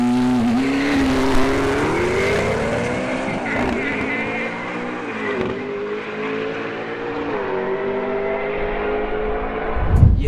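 A JM-built McLaren MP12C of around 1,000 horsepower roars at full throttle at a drag racing event at Santa Pod, its engine note climbing steadily through gears for about ten seconds before a sharp final burst.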